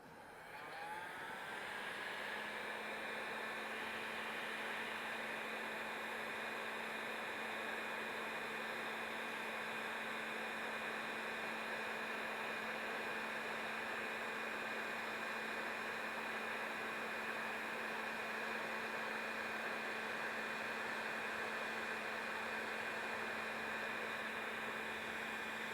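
Heat gun shrinking the heat-shrink seal on the end of a Drexan heat cable: a continuous, even blowing hiss with a steady motor whine, running unbroken for the whole stretch with no voices.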